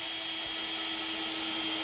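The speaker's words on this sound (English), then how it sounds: "So I'm gonna go ahead and pre-drill these blocks right now." A steady, high-pitched whine of a power drill pre-drilling wooden blocks during pool table assembly, running continuously, close by, with no talking.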